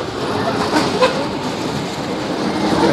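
A ride train rolling along its track nearby, a steady rumbling rattle with faint rhythmic clacks throughout, fairly loud and continuous.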